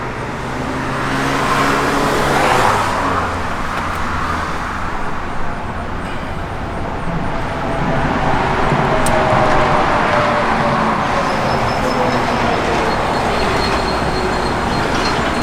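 A 1966 Pontiac LeMans convertible engine runs steadily nearby, giving a loud, continuous rumble throughout with no talking.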